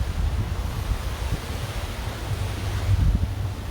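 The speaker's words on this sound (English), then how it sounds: "It's a little windy" Strong wind buffets the microphone outdoors at Treasure Island, a steady low rumbling roar that swells and gusts throughout, loud and close with no voices.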